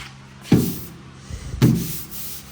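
A hand rubs across a car panel sanded with 150-grit sandpaper, giving two close, rasping scuffing strokes about a second apart, each a gritty swish that fades out.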